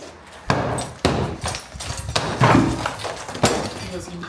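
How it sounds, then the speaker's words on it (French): A hammer smashing objects, likely glass and wood, in a run of hard separate impacts with crashing and clinking, mixed with people talking and reacting. "La POV du marteau."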